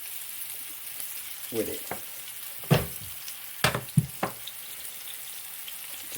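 Fennel slices fry in oil in a pan with a steady soft sizzle, broken by a few sharp clinks and scrapes as the slices are pressed flat; a brief spoken phrase comes near the end.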